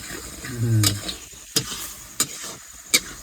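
Peda sweet mixture stirred in a kadai, with scraping strokes of a utensil against the pan and a soft low sizzle, plus a few sharp clinks spread out through the short stretch.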